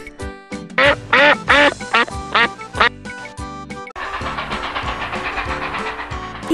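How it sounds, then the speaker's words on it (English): A cartoon duck quacks in a quick series of loud, close calls, followed by a denser stretch of busy animated sound effects. "D for duck."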